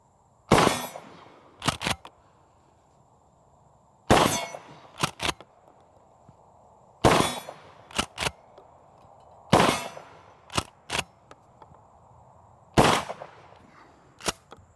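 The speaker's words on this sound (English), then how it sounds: "Took a shot at the little plate, missed it" A Mossberg 590S shotgun fires five loud, sharp shots outdoors at a range, spaced a few seconds apart. Each blast is followed by quick metallic clangs from a steel plate target being hit.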